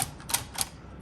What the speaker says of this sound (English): Periods, and then you backspace,